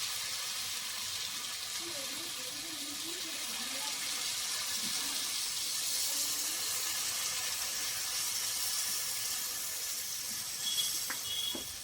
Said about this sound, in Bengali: জল দিয়ে দেবো এবার এটা ফুটে